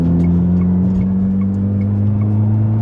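A GS3 Emzoom accelerates under partial throttle, a steady close engine drone with a low hum holding evenly over the cabin noise, no speech.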